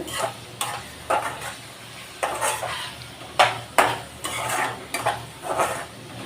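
Onions fry in a pan for bitter gourd curry with a soft sizzle, while a spatula stirs and scrapes in close, uneven strokes about once a second.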